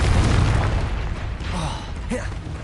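Confringo fire spell blasts from Hogwarts Legacy, a booming explosive burst with crackling pops, loud and close amid continuous rumbling combat noise, as a voice shouts spell names over it.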